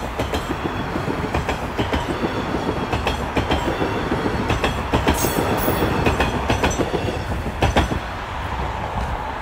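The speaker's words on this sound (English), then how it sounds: "As soon as I say that, here comes a northbound train." A northbound Toronto subway train runs past near Yonge Street, a loud, steady rumble with rhythmic clickety-clack of wheels over rail joints and a brief high squeal partway through.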